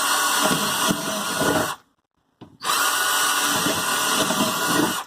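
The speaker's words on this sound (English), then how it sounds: "make sure that our drill bit goes all the way through" A power drill whines loudly as it grinds through plastic containers, cuts out briefly for about half a second, then starts up again.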